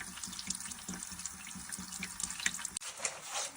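Water runs in a steady stream from a leaking PEX pipe connector at an elbow joint, a continuous close splashing trickle with small irregular plops throughout.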